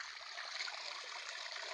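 A mountain stream flows in a steady, dense rush of water on a long trek through the hills, close by and continuous with no talking.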